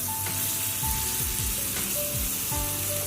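Ground masala hits hot oil with tempered bay leaf and fenugreek for a pabda fish kalia cooked with milk, producing a loud, continuous close sizzle with faint scraping sweeps.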